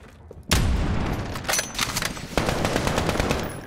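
Gunfire in the video game Modern Warfare during a sniping match: a loud shot bursts in after a quiet start, followed by dense, rapid cracking fire with clustered volleys, close and continuous to the end.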